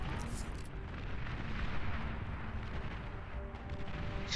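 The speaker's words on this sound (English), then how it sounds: "Oh, what a shot! That sniper bot is a problem." Battle in the real-time strategy game Beyond All Reason, with a sniper bot firing amid dense, rumbling low booms and explosions that roll continuously, fairly loud and busy, with no voices.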